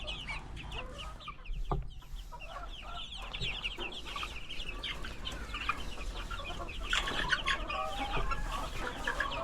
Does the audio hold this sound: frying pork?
no